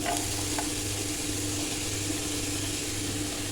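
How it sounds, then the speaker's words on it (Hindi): Carrots and finely chopped capsicum frying in a pan, a steady, even sizzle close by with a low background hum and faint occasional utensil taps, no voices. "अब इसमें डाल देंगे बारीक कटी हुई शिमला मिर्च"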